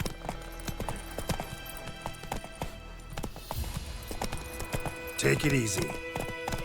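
Roach, the horse in The Witcher 3 video game, clip-clops along at a steady walking rhythm, ending with a short whinny, while a voice speaks over the hooves.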